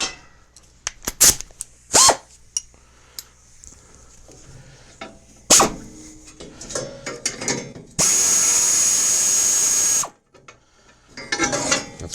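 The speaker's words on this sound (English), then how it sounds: "I'm gonna get in with an air ratchet just because it's faster" An air ratchet spins 7/16 bolts off a Murray PRO snowblower, with short bursts of clicking and whirring, a sustained loud two-second run near the end, plus clanks and handling noises between, close up.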